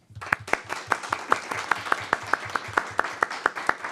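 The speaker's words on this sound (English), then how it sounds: "Let's do a round of applause." A small group at a school board meeting claps in a sparse, evenly spaced rhythm, the individual claps sharp and distinct, moderately close and fairly quiet.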